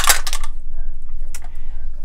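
Red dice rattle and clatter across a surface during a tarot reading: a quick burst of clicks, then a short second clack after a pause, close up.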